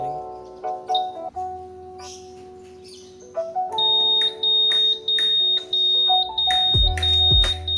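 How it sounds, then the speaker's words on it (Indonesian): The anti-theft alarm of a 2020 Honda Vario 125 CBS ISS scooter sounds up close, with loud, shifting electronic tones and chirping beeps that grow more insistent and pulsing toward the end. "Sekarang kita coba tes alarmnya ya."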